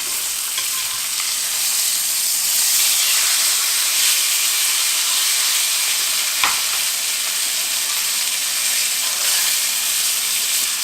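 Steak searing in butter in a skillet gives a steady, loud broadband sizzle and hiss, close up and continuous, with one sharp click partway through and no talking.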